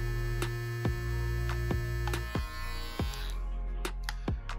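A Renpho hair trimmer at its fastest 7000 RPM setting gives a steady electric hum with strong harmonics, punctuated by repeated sharp clicks and taps, close up and fairly quiet.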